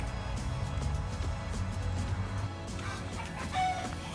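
A backyard chicken on an urban homestead clucks in short, soft bursts against steady outdoor background noise, with a brief sharper call near the end.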